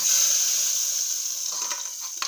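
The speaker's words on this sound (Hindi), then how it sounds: "अब गर्म घी को तड़के में डालेंगे।" Hot ghee poured into a dhaba-style tadka sizzles loudly and steadily up close, a continuous bright hiss that eases slightly as it settles.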